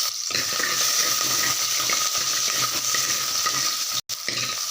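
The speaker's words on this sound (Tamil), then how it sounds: "எண்ணெய் சூடாகிடுச்சு அதனால தான் உடனே பொரியுது" Vadagam and sliced onions fry in hot oil in a pan while cooking a murrel fish curry, giving a loud, continuous close sizzle and hiss with light stirring, briefly cut off near the end.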